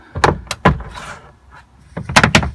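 Fiat Punto Grande door card being pried off its plastic clips, a series of sharp close pops and snaps in two clusters with a rustling scrape between them.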